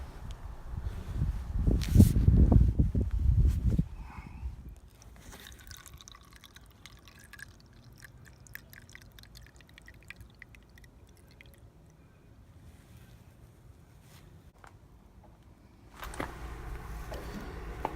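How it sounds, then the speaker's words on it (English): Liquid lawn fertiliser glugs and splashes loudly into an old 2-litre plastic bottle for a few seconds, then quiet dripping and small trickles follow, with a brief louder pour near the end. "So I'm just using an old 2-litre sea salt bottle, and I'm putting this first liquid in."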